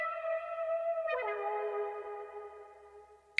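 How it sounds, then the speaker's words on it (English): A sustained synth tone in a beat, drenched in reverb and given a wobbling wow pitch effect, rings alone as a clear pitched chord, then shifts and wavers after a second before fading. "And then the wow control for that wobble."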